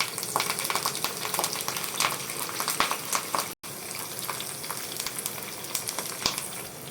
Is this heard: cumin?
yes